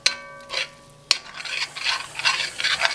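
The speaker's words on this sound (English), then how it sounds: "And just sauteing my vegetables" Seasoning-blend vegetables sauté in a pot for chicken and dumplings, a metal utensil scraping and clinking against the pot in repeated stirring strokes over a soft continuous sizzle, close and without speech.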